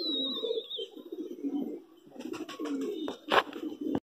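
A high flyer pigeon coos in soft, low rolling notes up close, joined midway by rustling and sharp clatter, with a thin whistling tone at the start.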